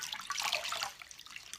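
A washcloth soaking in warm water in a basin, with no running tap nearby, gives a brief close splashing and sloshing that peaks early, then settles into softer trickling and dripping.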